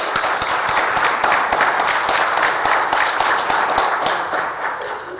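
Sustained audience applause fills the hall at a disability-rights association's annual meeting, dense steady clapping throughout that eases slightly toward the end, with no voices over it.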